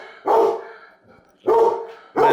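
A dog barks three times up close, each bark short and loud, with brief quiet gaps between them.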